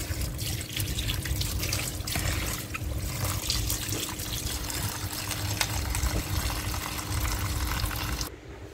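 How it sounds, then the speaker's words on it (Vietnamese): Tap water runs steadily into a basin for rinsing mustard greens, a continuous close splashing rush that stops abruptly near the end. "Giờ mình sẽ xả nước vô đây."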